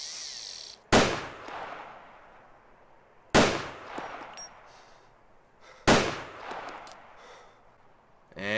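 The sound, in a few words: rifle gunshot in DayZ video game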